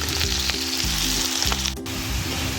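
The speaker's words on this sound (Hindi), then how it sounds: "अब प्याज को ब्राउन कर लेंगे" Onions browning in hot ghee, a loud crackling sizzle close up with a brief stir of a spoon, no speech.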